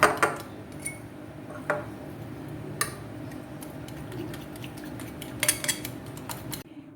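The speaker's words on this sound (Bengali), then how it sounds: "এই যে অল্প আমি সল্ট দিচ্ছি। এবার এটাকে খুব ভালো করে মিক্সড করতে হবে।" Raw chicken being mixed with salt in a bowl, with light clinks and scrapes of a metal utensil against the bowl over a quiet background, scattered taps and no voices.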